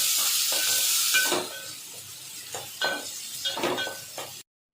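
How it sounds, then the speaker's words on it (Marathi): Onion and tomato sauté in a pan, giving a soft, steady sizzle with intermittent scraping stir strokes, quiet and close, before cutting off abruptly. "त्याच्यामध्ये मी टोमॅटो टाकते। तो पण आपल्याला चांगला मऊ होईपर्यंत परतून घ्यायचा आहे।"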